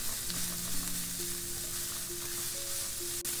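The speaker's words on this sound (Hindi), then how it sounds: "इसे हमें स्टर फ्राई करना है।" Cabbage, capsicum and spring onion stir-fried over full heat, a quiet continuous sizzle with faint movement in the pan, no voices.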